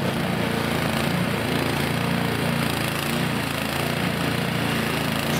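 Gasoline snow blower machine clearing snow, a steady loud engine drone running unbroken and close throughout.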